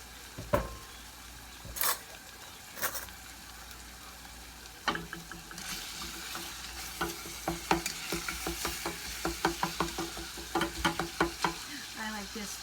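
Spatula scraping and chopping meat in a pan for homemade hotdog sauce with ketchup, a run of quick rhythmic taps and scrapes over a soft sizzle, growing busier toward the end, close and moderately loud with no talking.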